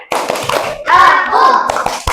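Children in a classroom clap along to a rhythmic Islamic chant. Sharp hand claps punctuate chanting voices through a short, close burst.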